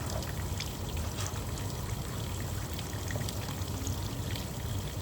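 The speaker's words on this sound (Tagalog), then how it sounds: "mabilis lang naman dito maglaba kasi ang tubig malakas" Strong water gushing steadily from a tap or hose while laundry is washed by hand, a constant loud pouring rush with no talk.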